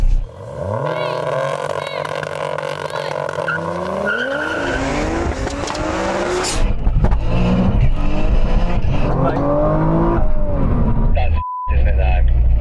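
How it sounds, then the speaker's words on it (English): A loud, tuned 600 hp GR Yaris engine strains and revs with a rough, uneven, misfiring note, broken by sharp pops and bangs, while people talk over it inside the car. "Missing in all gears now, it's just popping and banging everywhere."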